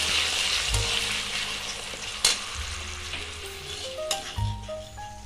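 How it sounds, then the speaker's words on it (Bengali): Onion, ginger and garlic paste masala sautés in a pan for egg and potato pulao, with a constant sizzle broken by a few sharp spatula knocks and stirring scrapes. "এবার আমি মশলাটাকে কষাবো।"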